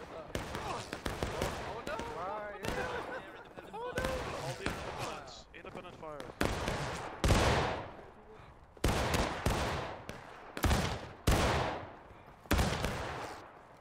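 Rapid bursts of video-game gunfire crack out in clustered volleys during the second half, loud and close, while players talk excitedly over the earlier stretch.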